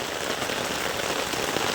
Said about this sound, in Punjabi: ਮੀਂਹ ਪਈ ਜਾਂਦਾ ਨਾ ਘਟਿਆ ਪੂਰਾ ਤੇਜ਼ ਪਈ ਜਾਂਦਾ